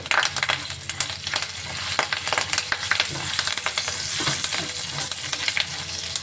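Curry leaves and two red chilies hit hot oil with a busy, crackling sizzle, full of sharp pops and spits over a steady frying hiss, close and fairly loud, with no talking.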